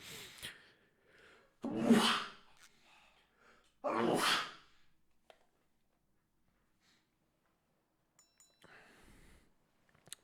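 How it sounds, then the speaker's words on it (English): Two loud, close sneezes a couple of seconds apart, each a sharp explosive burst of breath, followed by quiet and faint rustling. "I need to sneeze"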